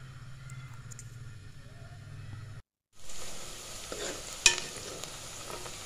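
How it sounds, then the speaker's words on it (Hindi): Onions frying to light golden in a pan, with a steady close sizzle and soft stirring scrapes that pause briefly midway, then resume with one sharper clink of the utensil against the pan. "ये प्याज़ों को मैं हल्का सुनहरी कर रही हूँ, लाइट गोल्डन।"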